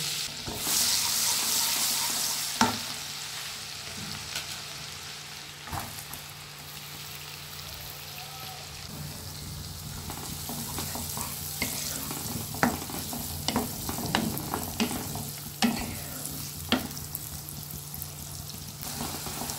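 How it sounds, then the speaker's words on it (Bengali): Chopped garlic and onion fry in oil and butter, giving a steady, moderately loud sizzle with occasional stirring scrapes and clinks from a utensil in the pan. "এর মধ্যে আমি রসুন কুচি আর পেঁয়াজ কুচিটা দিয়ে দেব।"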